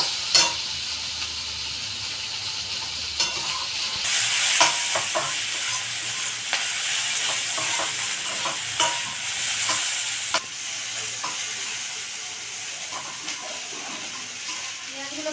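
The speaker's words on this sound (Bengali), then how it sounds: "এবার আলু আর পেঁয়াজ একসঙ্গে ভাজবো।" Potatoes and onions fry and get stirred in a pan: a steady, close sizzle with repeated scrapes and clinks from the utensil, loudest in the middle and continuing without talk.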